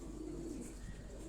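Pigeons cooing in a low, steady murmur, soft and continuous through the short stretch, with faint background hum and no talking.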